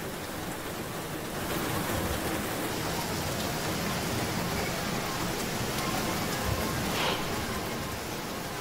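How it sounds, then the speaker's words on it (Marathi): Heavy monsoon rain pours down in the Dombivli and Kalyan area, a dense, steady broadband wash of falling water that stays even and fairly loud throughout, with no voices. "दिवा, डोंबिवली, कल्याण आणि ग्रामीण भागात मुसळधार पाऊस पडतोय"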